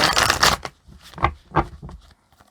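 Tarot cards being shuffled up close, a loud riffling burst followed by a few shorter slaps and rustles before falling quiet.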